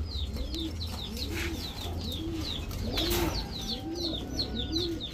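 Chuithal pigeons, including a Jiragola Chuithal pair, coo in a steady repeating rhythm, soft rounded calls about every second, with sparrow-like chirps and faint background noise around them.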